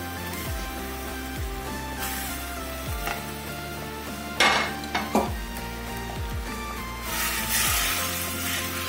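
Fish curry being stirred in a pan in South Indian home cooking, a steady sizzle with scraping spoon strokes and a few sharp metallic clinks against the pan.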